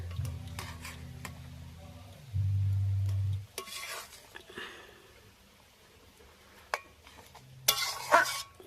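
Curry of potatoes and tomato cooking in a pan, stirred with a utensil: a low steady sizzle with scraping stir strokes and occasional clinks of the spoon against the pan, close and fairly quiet.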